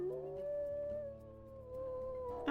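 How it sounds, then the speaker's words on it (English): A wolf howling in the video game WolfQuest, a single long, sustained tonal howl that slowly falls and wavers in pitch, heard clearly and up close against a low background hum. "And just do some howling up on top of this mountain."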